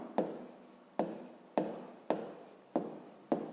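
Handwriting strokes while working a fifth-grade math rounding exercise: about six short, scratchy bursts in a steady rhythm, each fading quickly, close and clear with no talking.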